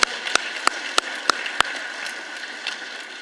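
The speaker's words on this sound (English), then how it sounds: "Give him a round of applause." A few scattered hand claps ring out at an end-of-year staff retreat and awards ceremony, six sharp claps spaced evenly over a soft room hum before the clapping fades.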